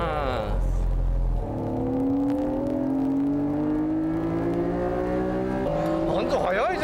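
Tuned Honda NSX race cars accelerate hard out of a corner at Tsukuba circuit, engine notes climbing steadily and layered together, loud and close, with a commentator talking over them.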